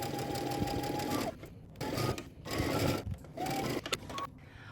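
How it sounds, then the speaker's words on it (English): A sewing machine runs in several bursts of steady, close, loud stitching as a skirt is seamed to a bodice, with short pauses between the runs. "we're going to stitch again using 5/8 of an inch seam allowance"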